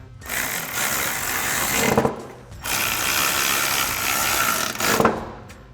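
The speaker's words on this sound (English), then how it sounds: "now we'll take that 4mm Allen bit to tighten down our 2 bolts" Ratchet driving a 4mm Allen bit to tighten bolts on a Ford F-150 cold air intake install, two long rapid clicking runs separated by a short pause, close and loud with no speech.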